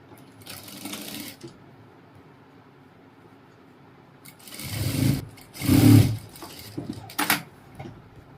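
Bursts of a sewing machine stitching the back panel of a ladies' coat, with a short faint run early, then louder close whirring runs in the second half separated by brief pauses.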